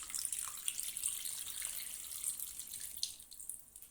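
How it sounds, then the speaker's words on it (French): Water pours steadily into a pot over bouillon ingredients, a continuous close splashing rush with a brief louder surge near the end and no talking. "je vais les couvrir avec de l'eau"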